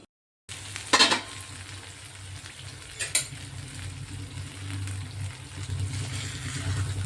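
Drumstick bhaji with masala cooks in a pan, a steady low sizzle and bubbling after a brief silence, with a couple of sharp utensil knocks and scrapes against the pan near the start, close and without speech.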